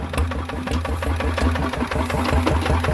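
A red Honda Scoopy-i scooter engine idles close by, a steady fast mechanical chugging with an even rhythm, loud and alone.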